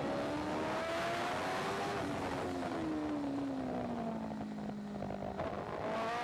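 A racing motorcycle at the Macau Grand Prix screams past during qualifying, its high engine note dropping steadily in pitch as it goes by, over constant loud track noise.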